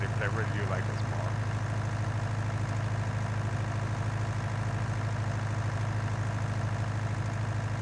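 A tractor engine idles in Farming Simulator 19, producing a steady low drone with a constant hum and no change in pitch. A brief faint murmur is heard at the start.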